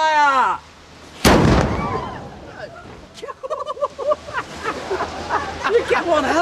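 A replica cannon from a Spanish Armada gun demonstration fires one loud, close blast that echoes and rolls away, followed by excited voices talking.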